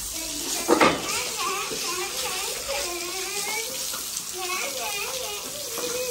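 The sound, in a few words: water running while washing floor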